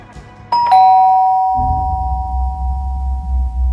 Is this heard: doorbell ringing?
yes